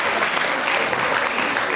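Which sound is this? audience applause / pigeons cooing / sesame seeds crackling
audience applause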